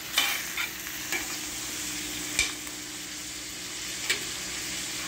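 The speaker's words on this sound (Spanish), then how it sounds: "Vamos a freír poquito los camarones con mantequilla y unos 2-3 dientes de ajo." Shrimp frying in butter with two or three cloves of garlic give a steady, close sizzle, broken by a few soft scraping stirs of a utensil in the pan.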